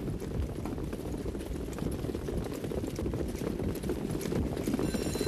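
Harness racing horses at the start of a two-year-old pace at the Meadowlands give a steady, dense clatter of hooves and track noise, loud and continuous, with no voices.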